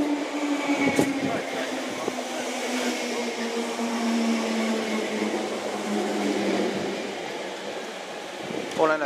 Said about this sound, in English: approaching now is a Bakerloo Line train doing all stops to Harrow and Wealdstone